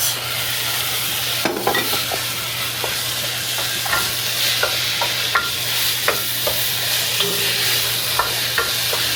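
Ground meat frying in a pot over onions and peppers that were already cooked down, a steady sizzle with scattered sharp crackles and pops, close and fairly loud, and no voices.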